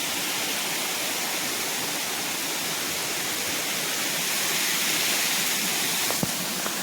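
Mountain water pours down in a steady, close, hissing roar that holds nearly unchanged throughout, with a faint brief tick near the end and no talking.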